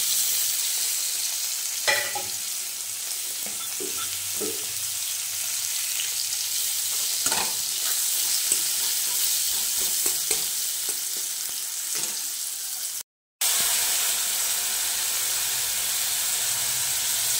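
Mustard seeds, panch phoron, nigella, onion, dried chillies and bay leaves crackle and sizzle in hot oil, a continuous hiss with scattered pops and stirring scrapes, close up, briefly cut to silence near the end.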